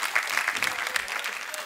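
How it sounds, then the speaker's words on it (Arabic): A studio audience at a comedy segment on a Moroccan TV show claps steadily, a dense, even patter of many hands that holds at moderate loudness throughout. "صفقوا لي على السي نعمان الحلو."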